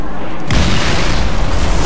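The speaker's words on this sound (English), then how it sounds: "Throw a grenade, try to help out" A Halo grenade goes off in Team Slayer multiplayer on a Forge map, a loud close boom bursting in half a second in and rumbling on through a dense roar.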